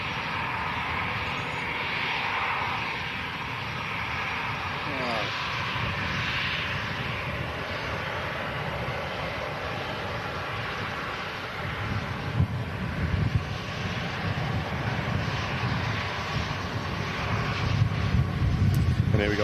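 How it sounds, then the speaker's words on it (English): A Virgin Atlantic airliner departs, a loud continuous engine roar with some wind buffeting on the microphone that builds toward the end while a voice talks over it. "here we go, Virgin Atlantic, final departure for the day"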